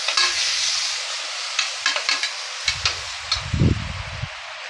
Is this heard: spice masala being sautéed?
yes